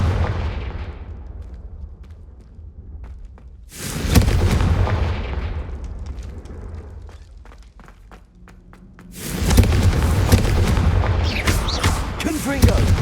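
Confringo fire spells explode in the Hogwarts Legacy video game, two separate loud booming blasts with deep thuds, each decaying into rumble before the next one hits, set over a low game soundscape.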